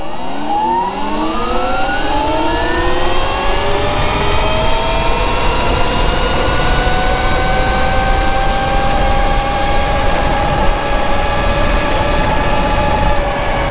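Sur Ron electric bike accelerating hard, a loud close motor whine rising steadily in pitch over several seconds, then holding a high sustained tone with no talking.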